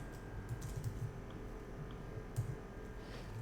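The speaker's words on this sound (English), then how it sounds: "we're going to type ordered list again, li again, title" Typing HTML code on a computer keyboard, a soft, continuous patter of close key presses over a steady low hum, with no talking.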